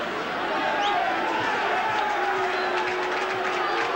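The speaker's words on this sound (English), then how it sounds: "the crowd's setting up a bit of an unfortunate chant here" Rugby league crowd at a 1986 Kangaroo Tour match, Hull versus Australia, keeping up a steady, moderately distant chant and murmur with sustained vocal tones, a constant stadium wash under faint commentary.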